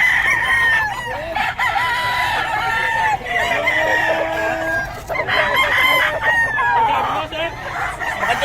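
Roosters at a fowl market in Bocaue crow repeatedly, with several overlapping calls and clucking amid the noisy crowd, and people talk throughout.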